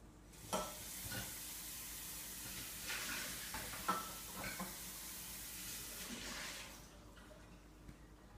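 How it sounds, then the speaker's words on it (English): Water splashes and swishes around a matcha bowl during a rinse, with soft irregular sloshing and a few brief louder splashes, close and quiet, with no talking. "Gave my bowl a rinse."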